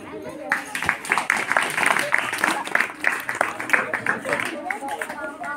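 An audience at a school district-level hackathon medal ceremony claps in a dense, steady patter of applause, with a voice speaking over it throughout.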